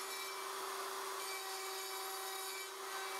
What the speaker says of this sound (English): route into every opening, making sure the guide bushing stays in contact with both sides of each template opening